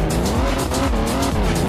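A lowered car in a racing video game accelerating and drifting, a loud continuous engine roar with squealing tires and skidding sweeping through, no talk.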